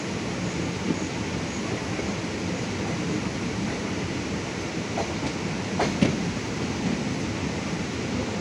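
Heard from on board, the Tirupati-Puri Express rolls into Khurda Road Junction with a constant rumbling roar, a few sharp rail clanks near the end and no voices.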